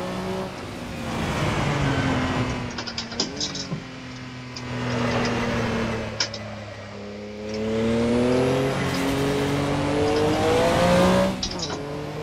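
Simulated car engine in Assetto Corsa, a high-torque car pulling hard through the gears with rising revs, shifts and blips, loud and close from the cockpit, with a voice talking over it.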